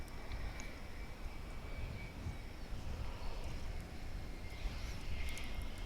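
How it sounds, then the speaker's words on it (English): A passenger airliner arriving on a runway at DFW airport after a flight from Amarillo, heard as a steady, broad engine roar that holds throughout at moderate distance, with no talk. "So here comes the flight from Amarillo on Runway DFW."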